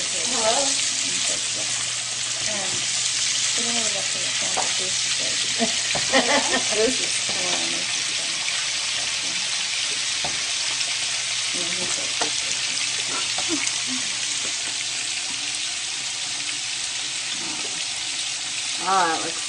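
Shrimp fry for risotto in a pan with a steady, loud close sizzle and hiss throughout, and people talk over it.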